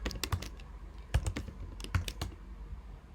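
Keys clatter on a computer keyboard in bursts of rapid, uneven taps with short pauses between runs, close and moderately quiet, with no voices.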